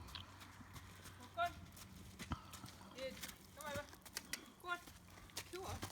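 Shire colt trotting during ground training, faint rhythmic hoof clip-clops under someone talking nearby.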